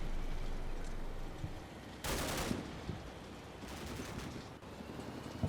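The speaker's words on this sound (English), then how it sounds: "Set up with one of the heavy machine guns." Heavy machine gun fire in the Cold War wargame Combat Mission: two distinct loud bursts of rapid fire rise over a low, steady battlefield rumble, with scattered single shots in between.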